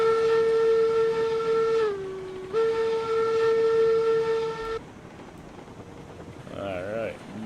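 A locomotive in the RailRoads Online game sounds a sustained steam whistle, briefly dipping in pitch, then cutting off to leave a running train rumble and a faint warbling tone.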